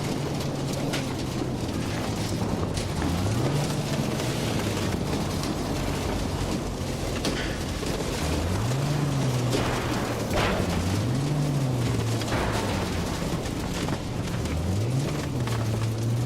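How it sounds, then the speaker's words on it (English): Loud noise from a stationary railing in Cyberpunk 2077: a constant, dense hiss-like roar fills the whole stretch, with low wavering hums rising and dipping underneath at intervals. "That is the loudest"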